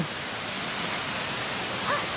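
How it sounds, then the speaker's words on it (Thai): Haew Suwat waterfall in a Thai national park roars as a steady, dense wash of falling water, unbroken and fairly loud throughout with no talk over it. "ใช่เขาเรียกว่าน้ำตกเหวสุวัสด"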